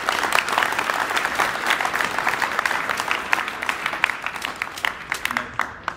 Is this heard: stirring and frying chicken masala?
no